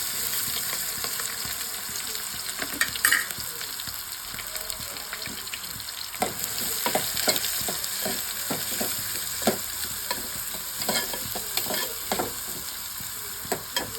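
Curry leaves and small shallots sizzle and spit in hot oil for mutton liver sukka, a steady close frying hiss broken by sharp crackles and the scrape of stirring, with no talk.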